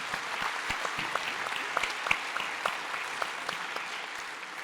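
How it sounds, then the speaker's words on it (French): Audience applause for award-winning farmers at an evening round-table event, steady dense clapping from a room full of people with a few sharper individual claps standing out. "Bravo, on vous applaudit."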